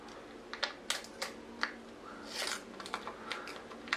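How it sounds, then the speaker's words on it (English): Paper wrapping being peeled and torn off a cheap double-edge razor blade, a run of short crisp crackles and snaps, close and fairly quiet, with no talking. "So I'm going to take off the paper wrapping like so."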